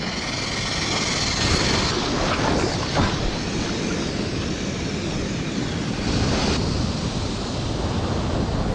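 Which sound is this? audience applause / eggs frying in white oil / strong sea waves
strong sea waves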